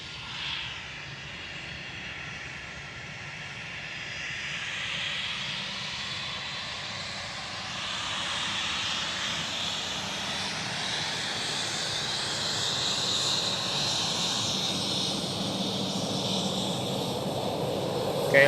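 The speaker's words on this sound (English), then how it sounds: "another KLM Cityhopper E190 is rotating." A KLM Cityhopper Embraer E190 jet takes off at Amsterdam Schiphol, its engine whine and roar swelling steadily as it climbs, loud and continuous with a sweeping high tone and no talking.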